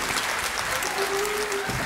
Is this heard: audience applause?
yes